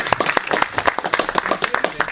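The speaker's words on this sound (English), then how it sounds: "So big applause, please." An audience at an influencer marketing conference in Poznan claps for the next speaker, giving a brief, dense round of applause with sharp, close individual claps.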